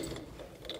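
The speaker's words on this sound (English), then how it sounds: "Again, this is where you get your torque wrench. And tighten him up." A torque wrench ratchets as it tightens the outer wheel bearing nut during a wheel bearing service, a short, quiet run of mechanical clicks with no talking.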